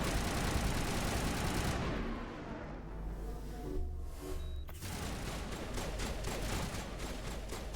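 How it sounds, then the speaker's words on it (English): Mass Effect 1 gunfire, dense bursts of shooting filling the scene, loud and continuous apart from a brief lull before the firing resumes. "Somebody else is like shooting us."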